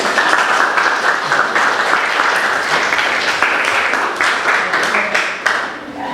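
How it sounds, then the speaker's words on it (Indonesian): Classroom applause, a dense burst of many hands clapping together that carries on for several seconds and then tapers off near the end. "beri tepuk tangan."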